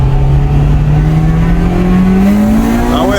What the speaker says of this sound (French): Et s'il n'y a pas de ligne droite, tu te mets à peu près à 40 en première, tu laisses et t'accélères à fond.